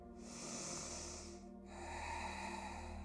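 Slow, deep breaths during a morning yoga session, a long airy inhale followed after a short gap by another steady breath, close and quiet with no talking.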